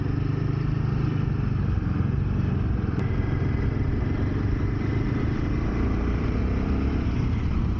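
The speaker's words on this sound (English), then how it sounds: "But the bike feels really smooth." Royal Enfield New Himalayan motorcycle engine running steadily while riding on a daily commute, a continuous loud low rumble with constant drone and faint clatter, no talking.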